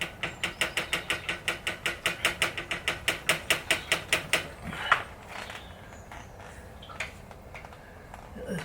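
A fast, steady run of ratchet wrench clicks loosens the exhaust bolts on an Indian Scout Bobber motorcycle, close and crisp for about five seconds, then a single clank and a few scattered knocks and rattles.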